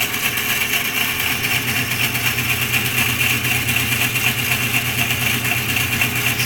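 A bandsaw is switched on and runs in a workshop, giving a steady, even mechanical hum with a faint regular pulsing and no speech over it.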